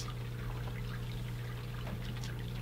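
Water poured into a food waste digester, a steady trickling pour under a constant low pump-like hum, close and continuous with no talk.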